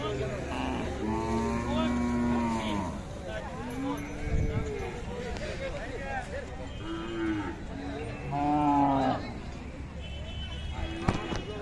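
Khillar cattle and buffalo at a busy cattle market give repeated loud, drawn-out moos, several overlapping, over a constant crowd murmur with occasional hoof clatter.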